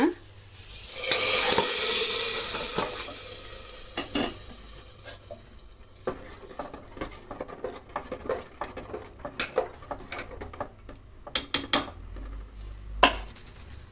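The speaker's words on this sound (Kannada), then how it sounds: "ಪಾತ್ರೆದು ಮುಚ್ಚಳ ತೆಗೆದು ಈ ಒಗ್ಗರಣೆನ ಅದರೊಳಕ್ಕೆ ಬಗ್ಗಿಸ್ಬಿಡೋಣ" Hot tempering poured into a pot of dal sambar erupts in a loud, hissing sizzle that fades into scattered crackles and light clinks of a spoon or vessel, with no talking.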